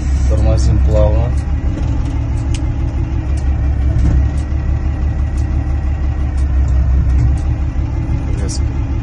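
Kalmar DCE container handler braking smoothly, its engine rumbling and idling steadily throughout with a faint hydraulic whine and occasional clicks, heard up close in a workshop setting.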